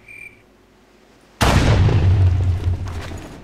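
A gunshot kills a zombie in the Minecraft Crafting Dead mod, a single loud booming blast that bursts suddenly out of near silence and rumbles on with a long fading tail.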